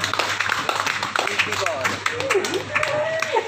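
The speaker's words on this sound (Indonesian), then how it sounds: "mohon tepuk tangan untuk juara 3 kelas jantan B" Scattered clapping from the crowd at a regional Kaligesing goat breed contest in Jepara, fairly light and uneven, mixed with an announcer speaking and background chatter.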